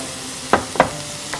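Oil going into a hot pan, a low steady background hiss broken by two sharp clinks or splashes close by, with a fainter one near the end, no voices.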